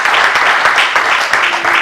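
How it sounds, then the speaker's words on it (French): A church congregation applauds during a sermon in a brief, loud burst of clapping that lasts under two seconds. "Oui, applaudissez pour lui."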